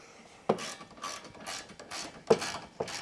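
A wrench tightens a 17mm bolt while installing a receiver front bumper: quick, close ratcheting clicks in short bursts, with two sharper metallic knocks standing out, fairly quiet overall.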